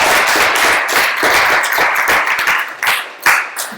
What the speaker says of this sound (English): So if everyone wants to give him a clap,